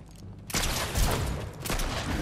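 Dense burst of gunfire from a Fortnite match erupts suddenly and keeps going as a loud, sustained volley, swelling again toward the end.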